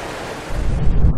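Water rushes at Purulia's lower dam, a broad steady roar that deepens and grows heavier halfway through, rumbling close and loud.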